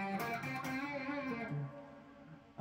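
Electric guitar played through a Positive Grid Spark amp with reverb engaged, a few sustained notes and chords ringing out clearly and decaying into a reverb tail, with no talking.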